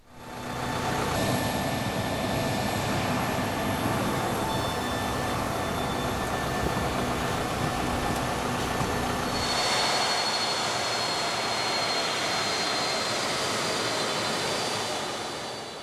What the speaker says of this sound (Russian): Самолет главы государства покинул национальный аэропорт и взял курс на Ташкент